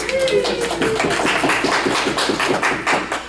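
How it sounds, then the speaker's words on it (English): Audience applause at a Star Wars discussion panel: dense, steady clapping from a crowd continues throughout, with a few voices mixed into it. "Give him a big round of applause"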